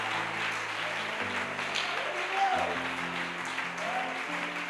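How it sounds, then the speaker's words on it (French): A church congregation claps and cheers for a groom about to be married, with a continuous wash of applause running under organ or keyboard chords throughout. "on peut acclamer pour lui"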